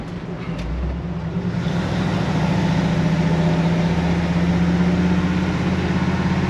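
A 1966 shop truck's engine with a collapsed lifter drives along, a loud, close, steady engine drone that swells after the first second, with a fine, rapid ticking rhythm running through it and no talk.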